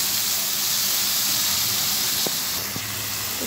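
Browned onions fry in a pan over medium flame, giving a continuous, even sizzling hiss that fills the whole moment, close and fairly loud, with no voices.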